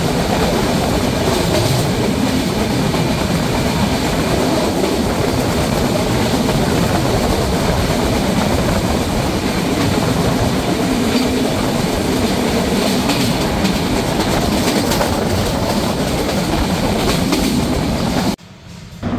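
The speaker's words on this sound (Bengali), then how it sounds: "ট্রেনটি এই মুহূর্তে থ্রু পাস করে যাচ্ছে মোলাডুলি রেলওয়ে স্টেশন।" The Dhumketu Express on the Dhaka to Rajshahi line, heard from inside, roars steadily and loudly as it runs through Moladuli railway station with continuous rumble and wheel clatter, cutting off abruptly near the end.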